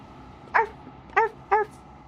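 A person imitates a dog, barking three short, close voiced yips in a quiet room while playing Slay the Princess.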